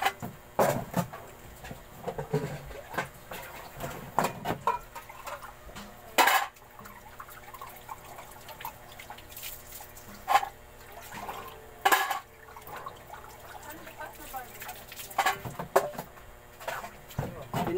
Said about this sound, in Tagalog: Ugasan ko lang itong kasa.